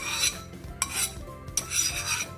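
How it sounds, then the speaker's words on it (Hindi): A cooking pot being scrubbed clean in a home kitchen: continuous close rasping and rubbing strokes with brief pauses between passes, fairly loud and with no talk. "और बर्तन जो है उसको अच्छे से हम साफ कर लेंगे।"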